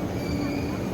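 A fast train travels through Beijing toward the Great Wall, giving a steady, even rumble with faint high whine and no distinct breaks across the moment.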